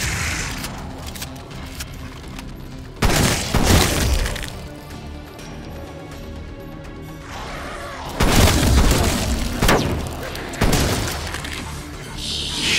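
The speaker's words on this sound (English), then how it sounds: "Do you like this bloody shotgun?" Shotgun blasts in a zombie outbreak video game ring out as a few heavy booming bursts with rattling decay over a continuous busy game soundtrack.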